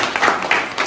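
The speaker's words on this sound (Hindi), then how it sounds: "तालियां हमारे रितेश भाई के लिए" Applause from a gathered audience at a Uttarakhand community association's silver jubilee celebration, a short burst of dense clapping that swells and fades in waves, fairly close and steady.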